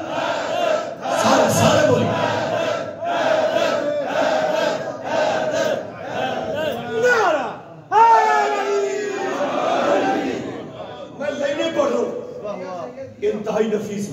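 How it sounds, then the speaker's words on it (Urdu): A large crowd chants "Haider Haider" in unison with raised arms at a religious celebration, loud rhythmic group shouting with rising cries and a swell of cheering midway, close and energetic. "دونوں بازو بلند کر کے حیدر حیدر، سارے بولیں"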